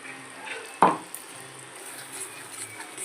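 Whisked sour yogurt stirred into a curry frying in oil, giving a steady sizzle, with one sharp spoon knock against the pan near the start.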